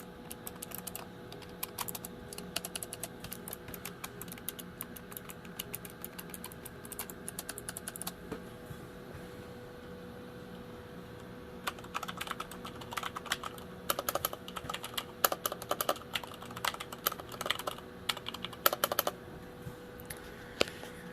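Typing on a Corsair K95 Platinum and a Logitech G815 mechanical keyboard, heard up close as a steady stream of crisp key clicks and clacks, with denser bursts in the second half and no voices.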